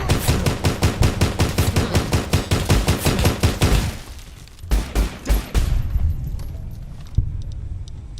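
Rapid marksman rifle gunfire in Fallout: New Vegas, a loud, fast, steady string of shots for several seconds, then scattered heavier single blasts and fading echoes.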